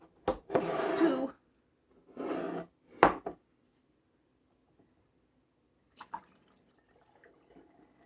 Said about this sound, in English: If you pull your funnel up a little bit, it pours quicker.